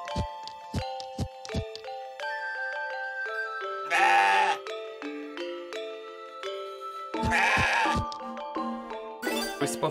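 A goat kid in the video game CrossCode bleats in two short bursts between chiming, tinkling musical notes, the cries close and clear over a light melodic backdrop.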